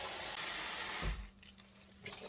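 Bangpung greens are washed in vinegar water, with a close, steady rush of water that cuts off abruptly about halfway through, leaving quieter splashes and trickles.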